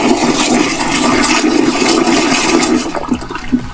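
Another RV toilet flush, a loud close-up gush of rushing water that holds steady, then tapers into a few gurgles and drips at the end.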